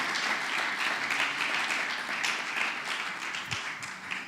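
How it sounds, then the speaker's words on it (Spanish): A church congregation applauds steadily, many hands clapping together in a dense, even wash of sound that holds for several seconds. "¿Le podemos dar un aplauso al Señor?"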